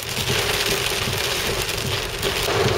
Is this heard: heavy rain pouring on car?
yes